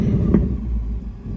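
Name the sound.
2024 Ford Mustang GT S650 remote engine rev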